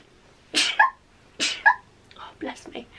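Two sharp bursts and then softer vocal noises, a young girl sneezing close to the microphone during a clothing try-on at home, heard alone without talk.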